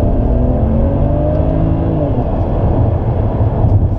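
A BMW 335i's engine drones loudly and steadily up close, with a deep exhaust rumble and rising revs partway through.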